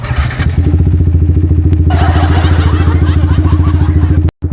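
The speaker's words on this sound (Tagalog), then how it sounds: "So magpapainit na tayo ng motor." A motorcycle engine warming up on a morning street, idling close and loud with a steady chugging pulse throughout, briefly cutting out just before the end.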